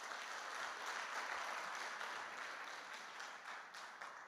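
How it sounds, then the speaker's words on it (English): Audience members at a community consultation meeting clap for themselves, a steady moderate wash of many hands that stays fairly even and eases off slightly toward the end. "Can you clap your hands for yourselves?"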